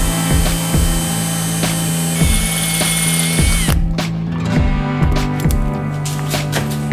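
A power drill bores a 5 mm hole in metal for an M6 tap: a close, steady motor whine with a rhythmic series of grinding pulses as the bit bites, the pitch shifting partway through.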